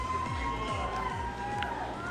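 A crowd cheers and shouts in a radio comedy sketch, a steady, loud roar of many voices with repeated swooping whoops rising over it throughout.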